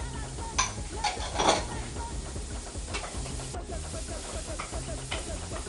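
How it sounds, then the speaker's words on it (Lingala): Onions and garlic frying in margarine in a cooking pot give a steady, close hiss and sizzle, with a few clinks of a utensil against the pot near the start. "je veux le faire revenir jusqu'à ce que les oignons avec l'ail deviennent à moitié tendres"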